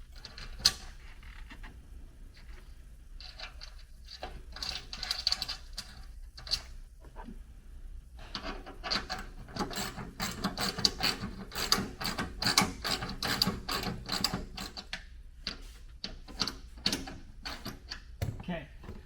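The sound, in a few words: tightening bolts on Bronco ridgeback install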